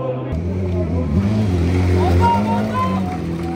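Superbike racing motorcycles in a World SBK race roar past a packed trackside crowd, their engine notes rising and falling over steady crowd noise while someone talks.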